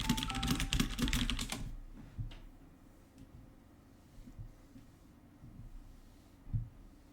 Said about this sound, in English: Apologies for the keyboard sounds.